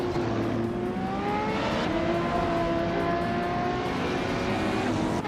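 An Aston Martin Vantage GTE race car engine drones steadily in a race, a continuous rising and falling whine of revs under constant track noise, with no breaks.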